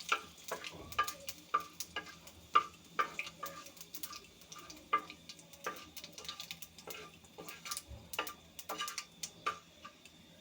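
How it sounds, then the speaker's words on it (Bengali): Bay leaf, dried chili and five-spice seeds fry in hot oil in a pan for a dal tempering, giving a quiet, steady crackle with scattered sharp pops and ticks and a few stirring scrapes, with no talking. "একটু ভেজে নেব।"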